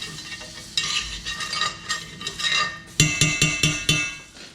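Butter melts in a hot pan for pork chops, under a soft sizzle. Metal utensils stir and scrape against the pan in repeated clinks, with a quick run of sharp taps near the end.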